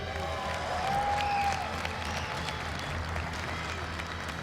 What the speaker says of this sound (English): Even Hines is clapping for you, Snipe Down.